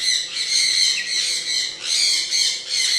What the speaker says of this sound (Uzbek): Bu yerda mana jakularimizdan bor.